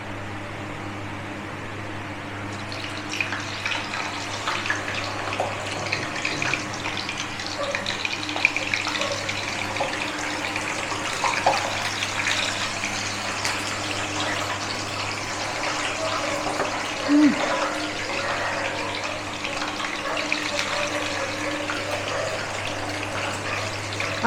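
Homemade masala potato chips deep-frying in hot oil, giving a continuous, even sizzling hiss that holds steady throughout, with no talking.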